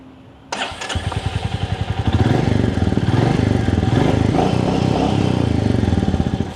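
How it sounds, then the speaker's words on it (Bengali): Royal Enfield Meteor 350 motorcycle starting up and settling into a steady, loud thumping idle, its exhaust putting out an even rapid pulse close to the microphone with no talk over it. "এখন আপনাদেরকে শো করব এই বাইকটার হলারের যে সাউন্ডটা"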